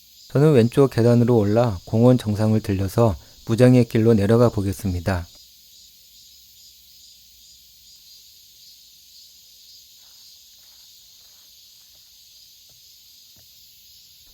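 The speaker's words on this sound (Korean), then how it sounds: "매미 우는 소리가 정말 우렁차네요." Cicadas in an urban forest park keep up a steady, loud, high-pitched buzzing drone throughout, first under someone speaking Korean, then continuing alone.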